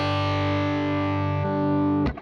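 Electric guitar run in mono through a Soul Food overdrive pedal, one sustained harmonically rich overdriven chord ringing for about two seconds before a brief muted strum cuts it off.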